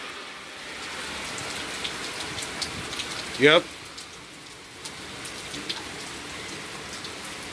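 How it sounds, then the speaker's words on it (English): Steady rain patters on surfaces outdoors, a continuous close hiss of drops, with a brief spoken word near the middle. "It's raining though."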